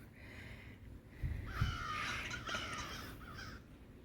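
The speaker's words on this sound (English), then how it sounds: "Some unhappy birds" Crows caw harshly a few times, fairly close, over quiet outdoor background noise.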